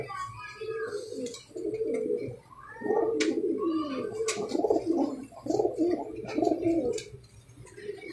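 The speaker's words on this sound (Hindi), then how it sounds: "इतने कबूतरों में टैडी जो है लोग कहते हैं जी छोटा कबूतर है" Many Jaunsari pigeons coo in low, rolling bursts close by, overlapping continuously, with a few faint chirps and some talking mixed in.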